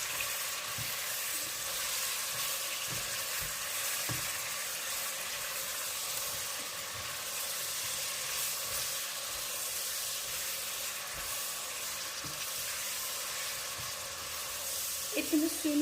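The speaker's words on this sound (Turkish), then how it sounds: "kuşbaşılık etimizi önce mühürlemek için tencereye alıyoruz" Oil sizzles and hisses steadily as diced meat sears in a pot, with scattered soft knocks and stirring sounds throughout.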